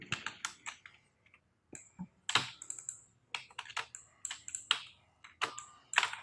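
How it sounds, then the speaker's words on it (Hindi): Keyboard shortcut keys are pressed while working in Adobe Illustrator, giving sharp, close clicks and taps in quick irregular bursts with short pauses between them, and no voices. "अब मैं कंट्रोल शिफ्ट एंड ये स्क्वायर ब्रैकेट मैंने प्रेस किया"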